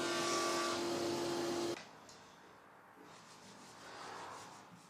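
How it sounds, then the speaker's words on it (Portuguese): Pine panels of reclaimed wood being sanded with 80 then 120 grit paper, a loud steady abrasive rubbing with a tonal hum that cuts off abruptly, leaving quieter scraping and faint handling noises. "Cada painel é lixado onde precisa."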